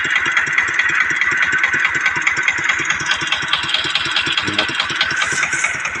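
A truck engine idles steadily with a regular low chugging pulse, loud and close, while the vehicle is used to haul straw bales.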